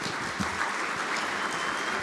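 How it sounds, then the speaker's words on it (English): A crowd applauding steadily, a dense wash of clapping at even volume throughout, with no talking, at the closing ceremony of a programming contest. "I really believe they deserve a round of applause"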